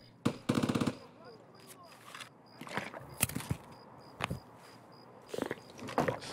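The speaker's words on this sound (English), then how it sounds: "there's someone coming and he's using either a PPSH or something similar" Bursts of submachine gun fire from a PPSH-style weapon in the Escape From Tarkov shooter game, several rapid rattling volleys, some close and loud, others fainter and more distant, separated by footsteps and ambient noise.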